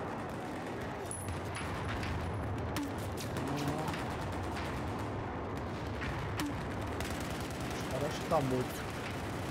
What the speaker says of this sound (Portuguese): Tem tanta bombinha indo pra lá que não dá nem pra ver